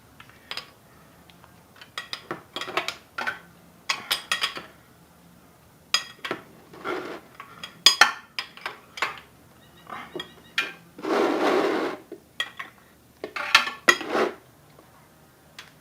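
Metallic clinks and scrapes of a tool working the oil drain bolt on a Chinese 150cc enduro dual-sport motorcycle, in irregular close bursts with short pauses and one longer grinding rub.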